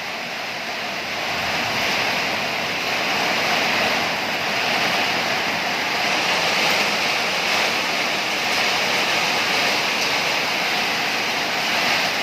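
Heavy rain pours down with strong gusting wind outdoors, a loud, dense and constant hiss that swells slightly over time, with no talk heard.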